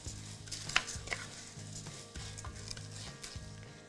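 Potato cubes and lentils tumble into a saucepan for lentil soup, giving a soft scrape and clatter with a faint sizzle and stirring, close and moderately quiet.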